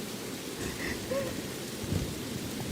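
Steady rain hiss with low rumbling thunder fills a stage show's storm scene, a continuous wash of downpour and distant rolling thunder with no voices.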